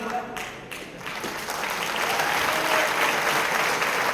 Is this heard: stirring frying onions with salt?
no